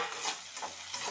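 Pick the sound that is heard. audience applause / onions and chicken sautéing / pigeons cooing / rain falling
onions and chicken sautéing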